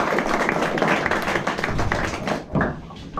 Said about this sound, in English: Please start the applause.